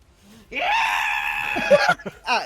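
A voice imitating a platypus mother's loud, high-pitched, horrible scream, one sustained shrill cry lasting over a second that breaks into short gasping sounds at the end.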